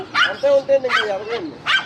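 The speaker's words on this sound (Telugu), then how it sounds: "ఆవిడ మొరుగుతుంది" A dog barks and yips in short, close bursts at a home where chickens are kept, with whimpering tones between the barks.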